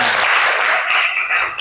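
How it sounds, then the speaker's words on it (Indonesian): A classroom group claps for a student named Asmi after her answer, a short burst of bright, dense applause that holds steady and fades slightly at the end. "tepuk tangan untuk Mbak Asmi"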